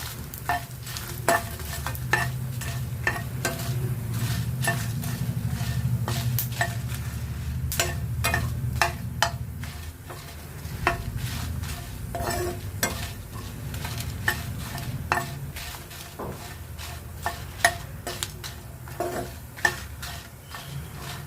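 Byadgi chillies sizzle gently in a pan, with steady soft frying under repeated sharp clicks and scrapes of a spoon stirring them.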